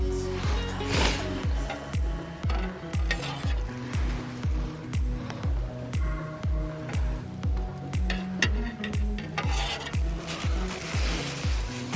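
Food scraped in a pan over a camp stove during winter van camping, a steady rhythmic scrape roughly every half second, loud and close, over a constant sizzle of frying.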